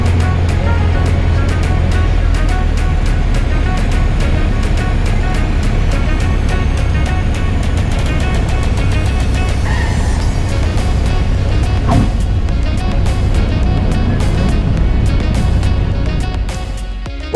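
A small airplane touches down on a runway at night, heard from inside the cockpit as a constant loud engine and wind drone with a soft thump at the moment of contact.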